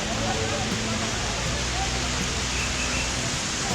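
Mountain stream water fed by Sheshnag lake on the Amarnath Yatra route from Pahalgam, a loud, unbroken broadband rush of flowing water that fills the whole moment, close and steady.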